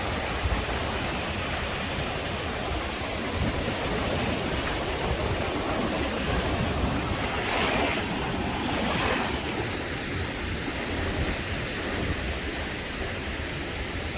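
Atlantic surf rolls onto the rough east coast at Bathsheba's Soup Bowl in Barbados, a steady, loud, continuous wash of breaking waves with no voices.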